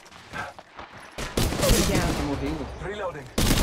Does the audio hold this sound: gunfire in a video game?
yes